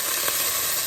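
Chicken feet dropped into a hot pot with ginger for arroz caldo give a steady, close sizzle and hiss with a brief soft splash near the start, no voices.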